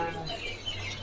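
Caged birds in a bird shop, including African paradise birds, give short, high chirps against a busy indoor background during a brief moment.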